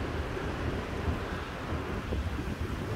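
Strong wind roaring and buffeting, a dense continuous rumble with gusty low-end thumps, no voices.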